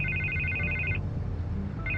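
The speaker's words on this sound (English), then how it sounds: "I can't get the phone to stop ringing." An electronic phone ring from Batman: The Telltale Series, a warbling two-tone trill that sounds for about a second, breaks off, then starts again, steady and moderately loud over a low in-game ambient hum.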